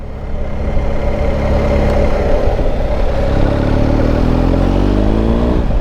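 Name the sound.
BMW R 1250 GS motorcycle riding and accelerating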